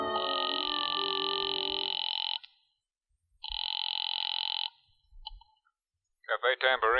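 A telephone rings from inside a phone booth in a radio drama: two long electronic ring bursts separated by a pause, then a short blip and a flurry of dial or receiver tones, clear and alone, followed by faint clicks.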